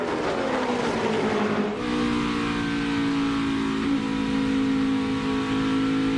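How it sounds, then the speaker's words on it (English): NASCAR stock cars roar around a racing track, a loud continuous engine drone with a pass-by dip in pitch and several overlapping engine tones holding steady afterward, with no voices. "Now Kyle Larson gets to the back bumper of the 18."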